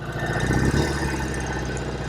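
A 1968 Norton Commando 750 motorcycle, first year of the model, runs with a steady, close engine drone and a low throbbing idle, no voices over it.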